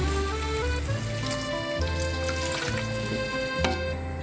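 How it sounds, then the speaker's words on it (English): Chicken and masala fry in a pan over a medium flame for a chicken curry, giving a steady sizzle with occasional stirring clatter and a constant low hum underneath. "Let the chicken fry for 5-6 minutes."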